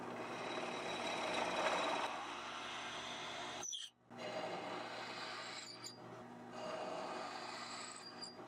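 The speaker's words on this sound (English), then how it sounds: "I'm just going to be drilling out these 3 holes here for the electronics" A steady, high-pitched drill whine runs nearly continuously while drilling holes in a wooden guitar body, dropping out briefly a couple of times before resuming, close and fairly loud.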